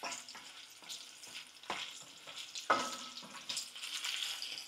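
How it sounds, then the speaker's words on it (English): Sausage quick-frying in a pan at close range: a quiet, continuous sizzle with occasional scraping stirs and small pops. "fry first the sausage. Quick frying, just to make sure it is cooked and a little bit brownish."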